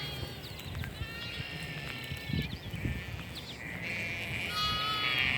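Sheep and lambs bleat across a 5.5-acre lambing pasture, several overlapping calls at mid distance over steady outdoor background noise, higher lamb cries joining toward the end.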